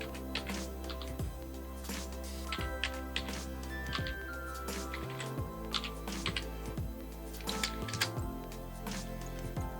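Someone types on a computer keyboard, a run of close, crisp key clicks in irregular bursts with short pauses between groups.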